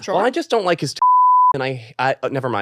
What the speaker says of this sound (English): It's a beep, beep, beep.